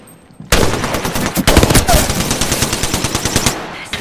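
Rapid automatic gunfire in a shooter video game, loud and continuous bursts starting abruptly and rattling on for several seconds with sharp individual shots.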